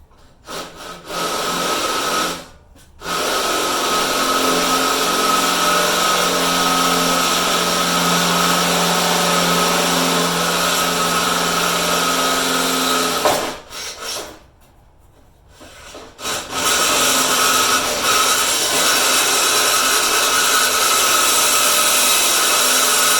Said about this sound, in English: Now I just gotta drill this side.